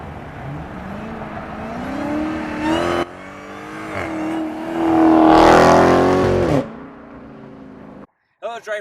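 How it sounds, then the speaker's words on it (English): A Dodge Charger Hellcat approaches and drives past around a corner at a driving course, its engine note rising, peaking loud and close, then fading as it moves away, with a brief voice at the end. "we've got the Dodge Charger Hellcat. It's going to be coming at us."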